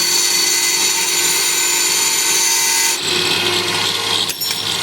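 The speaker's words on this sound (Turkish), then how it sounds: "Bakın Selim Usta Matkap'la Spirali şöyle tutturdu." A power drill whirs loud and steady at close range while drilling a spiral for a tent stake, its pitch shifting partway through as the load changes.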